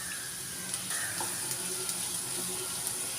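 Ginger and garlic fry for a Kerala toddy shop style beef fry, giving a steady close sizzle with small crackles and pops throughout at moderate loudness, and no talking.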